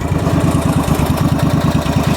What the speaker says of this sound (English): I've got the machine idling right now, as you can hear it.